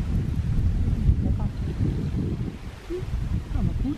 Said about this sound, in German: jetzt windet es wieder